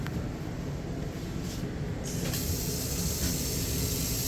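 Water pump in a Sunseeker 3250 RV, running as a steady hissing, spraying whir that grows slightly louder and brighter partway through, with no voices.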